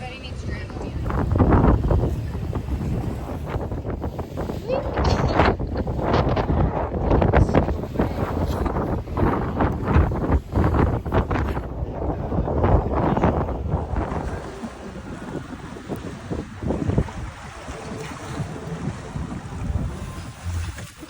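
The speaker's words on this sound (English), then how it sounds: "We're on the boat." A tour boat motors along the sea off the Amalfi Coast, with heavy wind buffeting the microphone and engine and water noise throughout; people talk over it.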